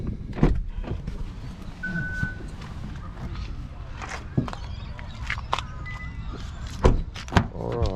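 Someone climbs into the back seat of a 2021 Hyundai Kona N-Line, with rustling movement, a few sharp knocks and a door thud near the end, all fairly close.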